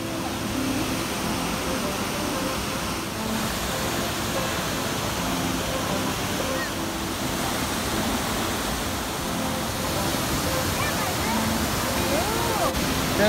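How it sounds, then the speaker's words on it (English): Steady broadband rush of flowing river water outdoors at an RV resort near Fernie, Canada, continuous and fairly loud throughout with no breaks. "I can hear the water."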